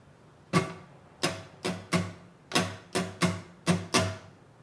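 Nine bright strummed chords on an acoustic guitar in a syncopated down-up-up-down-up-up-down-down-up rhythm, each stroke sharp and decaying quickly, close up with no voices.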